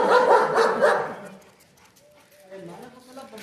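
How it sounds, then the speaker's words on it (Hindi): German shepherd barking in a run of loud, close barks, then quieter whimpering sounds as people talk in the background. "कुत्ता कुत्ता तो कुत्ता को पहचानेगा ना"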